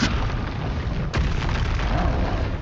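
Confringo explosive spell blasts go off in Hogwarts Legacy: a loud, dense booming roar, with a second burst hitting about a second after the first, with no voices.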